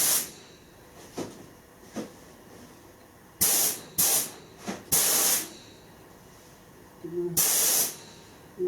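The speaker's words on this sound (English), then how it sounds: "You see, we've got that fan of spray there, which is about what we want." Paint spray gun fed by an air compressor, spraying automotive paint on a Triumph GT6: several loud hissing bursts of a few seconds each, separated by quiet gaps, with no talk.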